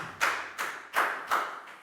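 Claps from a primary school maths class round of applause, heard as four distinct, evenly spaced sharp slaps, fairly close and alone without talk.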